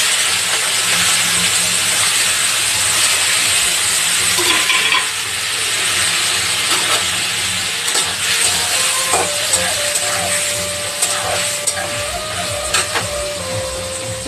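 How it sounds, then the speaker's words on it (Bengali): A pan of prawns frying gives off a loud, continuous hiss and sizzle, with intermittent crackles and a thin steady tone running through the later part. "দেখো এখনই আমি ভাজা ভাজা করছি এই চিংড়ি মাছগুলো"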